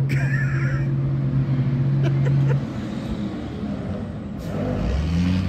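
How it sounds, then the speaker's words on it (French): Trucks racing in a truck race at Maracaibo, Venezuela, with engines rumbling and revving nearby, a steady droning tone fading midway before the noise swells again. "c'est pour ça qu'il y a les deux camions là qui courent"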